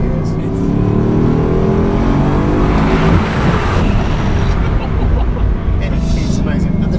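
An 8-litre car engine pulls hard under acceleration, a loud, continuous roar with rising revs heard from inside the car, with people talking over it.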